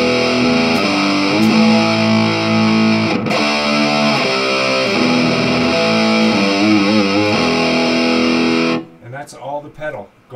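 A distorted electric guitar runs through a Big Pig sustain pedal in AmpliTube 3, with loud sustained chords and shifting notes up close before it cuts off and a voice talks briefly.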